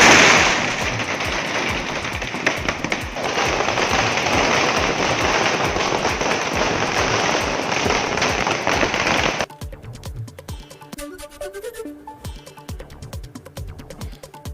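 Rapid, dense bursts of firecrackers popping loudly for several seconds, then stopping abruptly, leaving scattered fainter pops and background noise.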